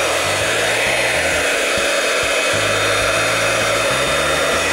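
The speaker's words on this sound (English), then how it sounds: "I'm going to get my heat gun" A heat gun blows steadily, melting heat-and-stick powder, giving a constant loud whooshing roar close up, with a faint low hum varying underneath and no speech.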